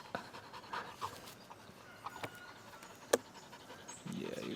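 A puppy pants quickly and softly near railway tracks on a trek toward Machu Picchu, with faint background noise and a few scattered clicks around it.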